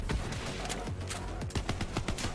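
Rapid gunfire from Borderlands 3 game combat, a dense run of overlapping shots and bursts crackling loudly and continuously through the whole stretch, with no talk over it.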